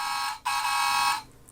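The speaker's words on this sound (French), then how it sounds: "Le bruit de camion" Electronic sound effect from an Optimus Prime leader class Transformers toy truck: a steady, loud, buzzy alarm-like tone, briefly cut off once, then resuming for under a second before stopping, with no voices.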